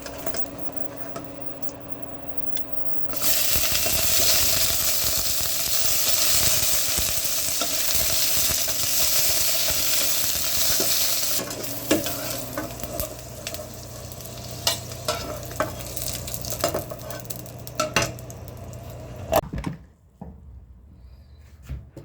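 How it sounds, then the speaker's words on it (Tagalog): Egg and okra fry in a pan, a steady close sizzle that later turns into irregular crackling and stirring clatter before stopping near the end. "Lulutuin ko lang ngayon ay pritong itlog tsaka pritong okra."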